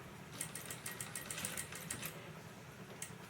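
A sewing machine stitches lace onto the neck of a blouse. It makes quiet, rapid mechanical clatter in short bursts, close by, with no talk.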